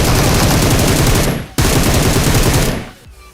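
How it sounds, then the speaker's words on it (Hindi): Rapid automatic gunfire in a shooting video game, loud and close, with two long sustained bursts separated by a short break and then cut off. "भगवान राइट से शॉट पड़ते लेफ्ट से"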